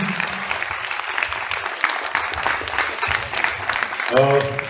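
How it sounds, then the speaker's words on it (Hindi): Audience applause during a live session with an actor at a short film festival: a crowd's broad clapping wash, fairly near and steady, with a voice speaking over it near the end. "दोस्तों ये बात जबरदस्त तालियां"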